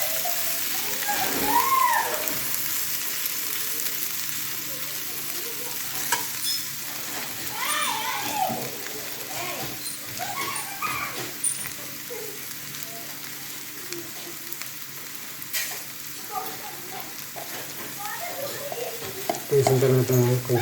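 A pan of egg and tamarind curry being stirred over the heat: a steady close sizzle with repeated scraping and sloshing strokes runs the whole time, and faint voices sit in the background.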